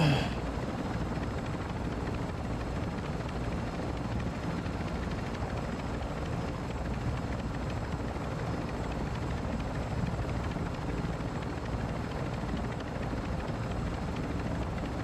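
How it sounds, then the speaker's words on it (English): Steady, loud helicopter rotor and engine drone in the Call of Duty DMZ video game, a fueled-up helo waiting for exfil, continuous and close with no pauses. "the helo is fueled up"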